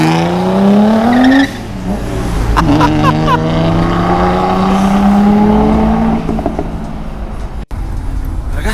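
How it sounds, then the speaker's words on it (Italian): A Nissan GT-R R35 engine revs hard and loud close by, pitch climbing and dropping through several throttle blips at a car meet. "Sì, confermo dal sound, motore della R35."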